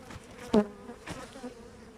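Honeybees drone steadily around an opened hive during an inspection, a dense close buzz with one sharper burst as a bee passes near, continuing without speech.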